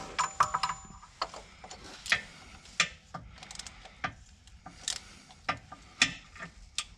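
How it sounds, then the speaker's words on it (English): A 36mm socket on a ratchet tightens the plastic oil filter housing on a Porsche Cayenne 958 92A V6, giving irregular clicks and ticks of the pawl in short bursts, fairly close and quiet, with no talk. "we use our 36mm socket to tighten up the housing"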